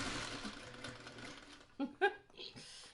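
A sewing machine stitches quilt seams with a steady close hum for about a second and a half, then stops as a voice briefly speaks.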